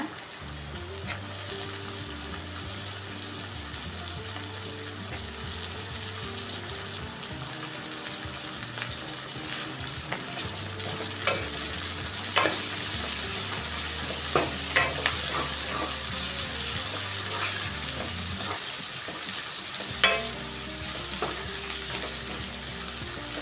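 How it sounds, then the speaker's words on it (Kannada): Onions frying in a pan for a rohu fish curry give off a steady, fairly loud sizzle. Stirring scrapes rise over it toward the end, and nobody speaks. "ಈರುಳ್ಳಿ ಹಾಕ್ತಾ ಇದ್ದೀನಿ ಇವಾಗ."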